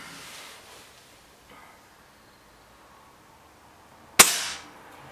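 One sharp air rifle shot cracks near the end during a field target match between a BSA Lightning SE and a Webley Xocet, a sudden loud pop that decays quickly after quiet outdoor rustling.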